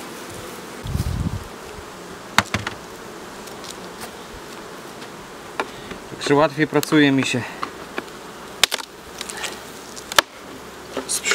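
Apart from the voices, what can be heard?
Buckfast honey bees buzzing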